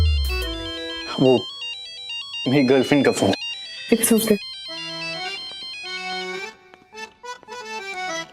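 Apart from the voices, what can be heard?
mobile phone ringtone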